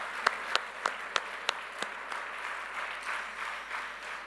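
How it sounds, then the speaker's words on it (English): Applause from the audience at an architecture festival's closing session, opening with a few sharp, distinct claps that settle into softer, fairly faint clapping spread across the hall. "It needs a huge round of applause for the entire organizing team."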